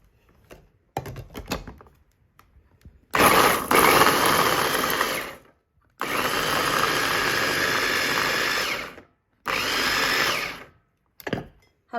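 An electric blender grinds garlic and ginger for Sichuan-style chopped chilli paste, running in three loud, close bursts of steady whirring motor noise with short pauses between them and a few small clicks and knocks before and after.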